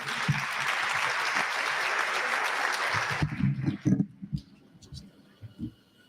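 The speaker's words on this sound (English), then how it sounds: "Another round of applause, Elizabeth Mutare." Enthusiastic audience applause at a business school graduation ceremony, dense clapping that holds steady for about three seconds and then breaks off into a few scattered claps and faint murmurs in the hall.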